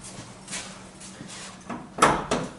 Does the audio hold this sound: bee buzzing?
no